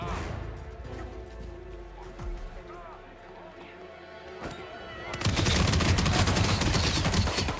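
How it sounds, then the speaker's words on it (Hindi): Quiet ambient sounds in the game Hitman 3 give way to a sudden loud burst of rapid, sustained gunfire that continues to the end. "इसमें गोलियां क्यों चला रहे हो यार"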